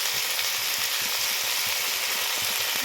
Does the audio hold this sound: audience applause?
no